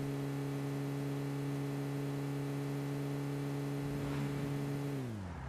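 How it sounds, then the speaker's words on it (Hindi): A motorbike engine in a video game drones steadily while crossing a bridge, a constant mid-range hum with clear harmonic tones that shift and fade near the end. "ब्रिज पार करते करते अपने को बाइक स्टार्ट करने की आवाज आती है।"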